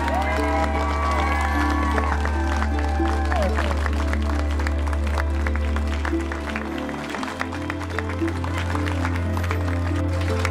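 Wedding guests applaud and cheer for a newlywed couple right after the ceremony, sustained loud clapping with whoops under a steady low hum and music.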